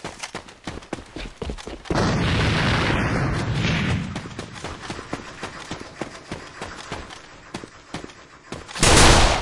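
A grenade goes off in the first-person shooter A.V.A. Sharp gunfire cracks run throughout, a heavy roaring blast rumbles in around two seconds in and decays, and another loud burst hits at the very end.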